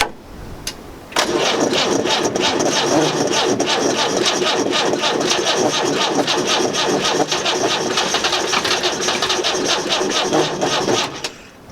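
Land Rover diesel engine cranking over on the starter with an injector slackened, a loud rhythmic churning that runs steadily for about ten seconds, nearly catching, then cuts off.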